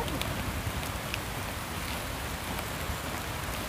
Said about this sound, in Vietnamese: Đây trời đang mưa luôn.